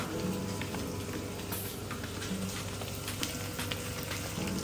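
Onions frying in a pan, with bell peppers about to be added, give a steady, dense sizzle that stays at an even level throughout. It sounds close and continuous like light rain, and nobody speaks.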